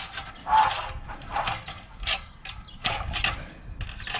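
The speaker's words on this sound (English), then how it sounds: "I'm gonna take my pliers first, come in here and kind of get that back straight" Pliers bending and working the bent metal of a discarded patio heater back straight, giving a few close, scraping, clanking metallic bursts with brief pauses between them.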